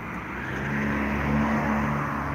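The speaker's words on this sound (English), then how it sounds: "That's a car." A car drives past outdoors during a Pokémon GO walk, a steady engine rumble and road noise that swells slightly mid-clip, fairly close, with no one talking.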